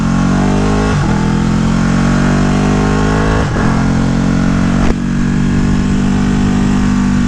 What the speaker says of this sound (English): I was doing the quick shifter right there.